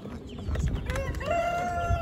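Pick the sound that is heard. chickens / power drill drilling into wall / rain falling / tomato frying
chickens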